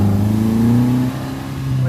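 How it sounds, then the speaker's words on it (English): A Singer car engine revs under throttle after an accelerator pump fix, a loud, close mid-pitched drone that rises and then eases slightly, with no exhaust popping. "When I give her the beans, the throttle response is much more responsive."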